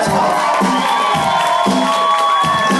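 A live concert crowd cheering and shouting at a performance, with loud sustained whoops and yells in several rising waves.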